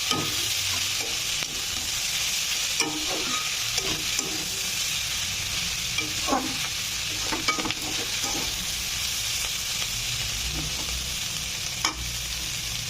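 Egg chicken Maggi noodles fry in a pan with fried egg stirred in, a steady close sizzle running throughout with scattered scraping stirs and clinks.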